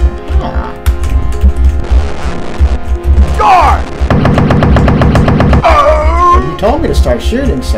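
Gunfire in the first-person shooter Blake Stone: Planet Strike, loud rapid repeated shots in bursts over a low throbbing hum and game music, with no voice.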